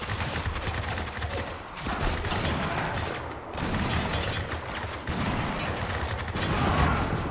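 Dense gunfire in the video game Spec Ops: The Line, loud sustained bursts of automatic shooting and impacts that fill the clip with only brief lulls, no speech heard over it.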